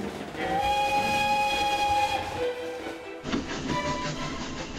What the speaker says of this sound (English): Our junk mail train is almost indistinguishable from the 1930s original as it gathers speed through the man lab.